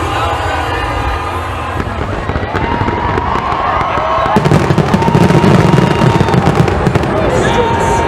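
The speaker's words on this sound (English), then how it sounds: "The Western and Southern WEBN fireworks begins right now." The Western and Southern WEBN fireworks display over Cincinnati in 2021 opens with dense crackling bursts and booms over a loud outdoor crowd, continuous and close.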